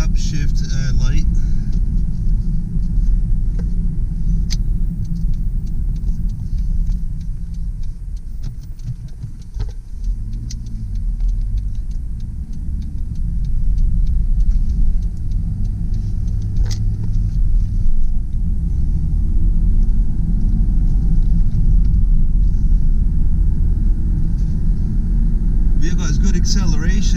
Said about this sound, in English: Acceleration. There's no problems getting up to speed.